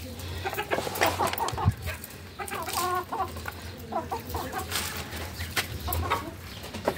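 Domestic poultry in a bird house, dominated by hens clucking and cackling in short repeated bursts, loud and close, with rustling and scattered other bird calls underneath; no talking.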